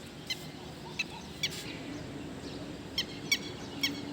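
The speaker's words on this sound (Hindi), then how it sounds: "कितना सुखद लगता है सुबह सुबह पक्षियों की आवाज़" Morning birdsong outdoors: short, faint chirps and whistles sound at irregular intervals, about eight brief calls over a soft steady background hum.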